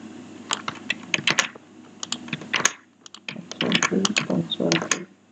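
Close typing on a computer keyboard, a quick patter of key clicks in bursts with a brief pause midway, while a person talks softly over it.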